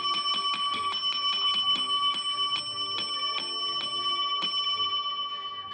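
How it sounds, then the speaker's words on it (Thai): Rapid repeated bell strikes ring out during a Thai game-show round while contestants race against it, a fast steady ringing that slows and spaces out toward the end, fairly quiet with no talking. "ถ้าหมดเสียงกระดิ่งไม่มีใครบิด"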